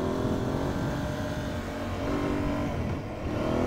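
Aprilia Tuareg 660 parallel-twin engine riding off-road, heard as a steady, loud, rough drone mixed with wind rush and dipping slightly in volume near the end.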